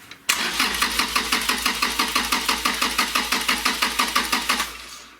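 A Toyota Land Cruiser Prado 120 engine cranks with a rapid, even rhythmic starter chug for about five seconds, loud and close, with no clear catch before it stops.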